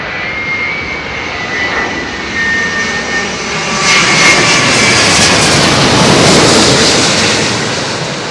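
A British Airways jet arriving at London Heathrow runway 27L roars in overhead, its engine noise swelling steadily from a loud rumble to a peak as it passes close above.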